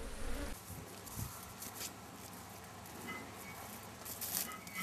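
A steady drone of many bees buzzing close by, humming continuously with a few louder swells.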